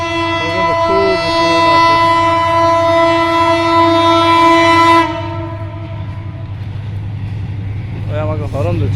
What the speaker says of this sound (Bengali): আমাকে হরন দিচ্ছে, বলতেছে সরে যাওয়ার জন্য।